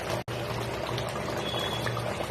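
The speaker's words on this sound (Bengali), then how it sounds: "এই মাছের ঝোলের মধ্যে একটু দুধ দিয়ে দিলাম, জাল দেওয়া দুধ" Boiled milk is poured into a Bengali aar fish curry in the pot, a steady close liquid pour and gurgle running almost unbroken for a couple of seconds.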